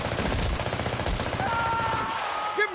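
Rapid automatic gunfire rattles in the video game Battlefield: Bad Company, dense repeated bursts up close and loud, thinning out toward the end.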